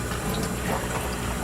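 Water poured in steadily to fill a homemade brine shrimp hatchery, a continuous close splashing and trickling that runs evenly throughout without pause.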